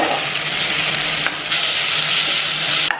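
Boiled packet noodles tipped into a hot pan and frying, a loud steady hiss of sizzling oil with a brief stirring clatter near the middle and a sharp scrape as it ends.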